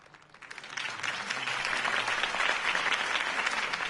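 A crowd in the PS4 Batman video game breaks into applause that swells within a second and holds as steady, dense clapping.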